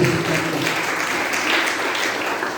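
A church congregation claps together, steady dense applause filling the room from start to end with no break.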